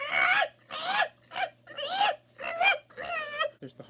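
A person imitates a chimpanzee with six loud, close hooting and screeching bursts in an uneven rhythm, harsh and voiced, with short gaps between them.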